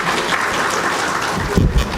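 An audience at a national skill conference applauds, a brief burst of dense, close clapping lasting about two seconds.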